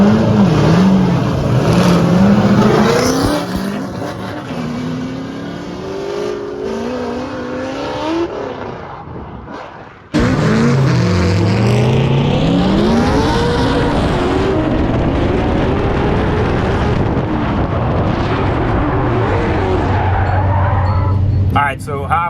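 A race car engine revs and roars at close range at a motorsport competition, pitch climbing and dropping through repeated bursts, with a sharp cut partway through and people talking over the engine noise.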